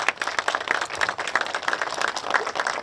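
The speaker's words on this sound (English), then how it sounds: "absolutely give them a big round of applause" A small crowd claps for two judges at a West Virginia mountain-ride dedication, a brisk, fairly close round of applause that holds steady throughout with no talk over it.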